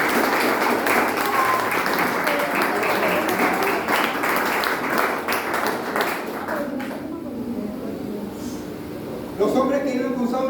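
A church congregation applauds during a sermon, dense sustained clapping that fills the room for several seconds, then thins out and fades, with a short burst of claps returning near the end.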